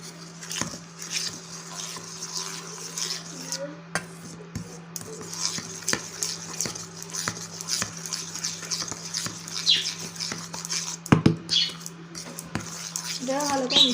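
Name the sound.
mixing atta flour dough for village-style Bengali biscuits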